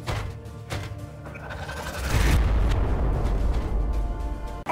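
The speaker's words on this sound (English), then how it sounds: "Throwing grenade!" A grenade explodes in the Warhammer space marine strategy game Regicide: after some scattered battle clatter, a deep rumbling blast rises at about two seconds and rolls on loudly until the end.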